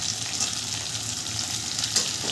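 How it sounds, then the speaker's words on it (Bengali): Onion petals hitting hot oil alongside ginger and garlic for chili chicken produce a continuous close sizzle with faint bubbling, steady throughout with no voices. "পেঁয়াজের পাপড়িগুলো যে ছাড়িয়ে রেখেছিলাম সেই পেঁয়াজগুলো দিয়ে দেবো।"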